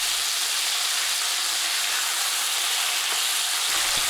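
Marinated beef pieces searing in a hot pan for a Chinese stir-fry with bean sprouts, giving a steady broadband sizzle and hiss with no speech over it.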